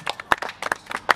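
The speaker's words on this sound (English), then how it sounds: "give these guys a clap" A small crowd at a waka ama paddling competition at Lake Karapiro gives a short burst of scattered hand claps to welcome first-time paddlers, with a few distinct sharp claps standing out and no voices over them.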